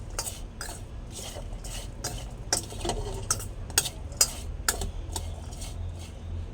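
Turmeric, salt and mustard paste being mixed together by hand for a pumpkin-stem dish, giving soft, steady squelching and rubbing with sharp clinks against a metal bowl at an even rhythm, close by and without talk.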